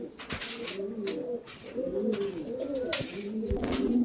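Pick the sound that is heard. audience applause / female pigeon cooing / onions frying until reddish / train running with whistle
female pigeon cooing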